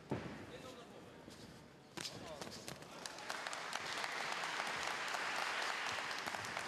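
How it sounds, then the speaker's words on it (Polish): A crowd applauds in a school sports hall during a full-contact fight. Clapping swells from scattered claps into loud, sustained applause, with a commentator talking over it. "I znowu oklaski."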